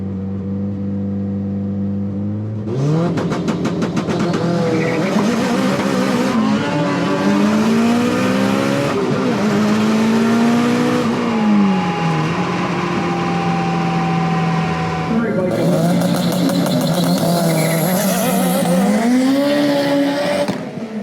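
Turbocharged AWD Eagle Talon launching down a warm drag strip, engine screaming loudly through rising gear pulls with sharp shift breaks, steady and close for the whole run.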